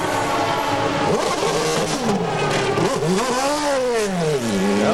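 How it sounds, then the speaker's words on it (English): An IndyCar race car engine, from the 2002 Michigan Indy 400, revs loudly and close as the car pulls out of the pit area. The pitch rises and falls through several sweeping surges with no talk over it. "Rice once again does a good job getting out of the pit area without stalling the engine."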